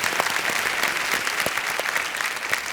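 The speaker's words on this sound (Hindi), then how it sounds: "तालियों के साथ इनका स्वागत" A studio audience on a Kaun Banega Crorepati game show claps to welcome a contestant, steady dense applause throughout with no voices over it.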